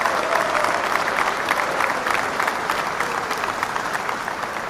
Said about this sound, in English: We couldn't hear you over the clapping.